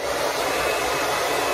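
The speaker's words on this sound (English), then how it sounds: "just take your blow dryer, blow all the hair out" A blow dryer blows steadily and loudly up close, clearing cut hair off a real leather barber cape, a continuous even rush of air with no pauses and no talking.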